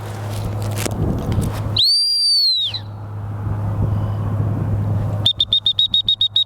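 A gun dog training whistle gives one long warbling blast, then after a pause a rapid string of short, sharp, high pips in quick succession.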